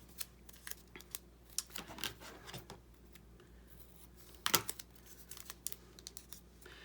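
Scissors snipping paper ephemera for a journal craft, a series of soft, quick crisp cuts in short irregular bursts, close and quiet with no talking.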